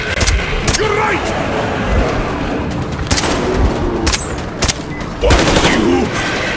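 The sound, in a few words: gunfire at mutants in video game Metro Exodus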